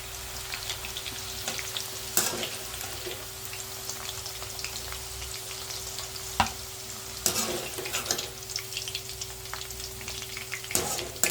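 Okra sizzles and crackles steadily while frying in a pan, with a few sharper knocks of a spatula against the pan, heard up close and with no talking.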